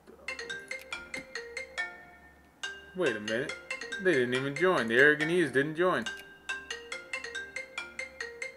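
A phone ringtone chimes in a repeating pattern of bright electronic tones, loud and near, then stops while someone talks over a game, and the ringing resumes after his speech.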